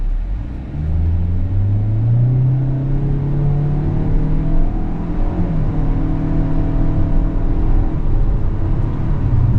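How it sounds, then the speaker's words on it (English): A 2025 Kia Soul GT-Line's naturally aspirated 2-liter engine accelerates under load, a loud steady droning hum inside the cabin with rising, overlapping engine tones as revs climb. "It is going to be a little bit noisy under load, but it is a naturally aspirated 2-liter"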